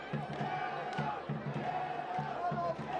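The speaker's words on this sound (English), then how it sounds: "You hear the crowd begging for that second yellow." A stadium crowd at a soccer match roars and jeers, demanding a second yellow card, a rough sustained mass of voices with rhythmic chanting pulses under a commentator's voice.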